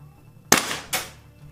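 Two sharp gas-powered shots from a WE PDW airsoft gun fitted with a RA-Tech barrel and N.P.A.S. hop-up, fired through a chronograph, close and loud with a short pause between pops and a quiet room after.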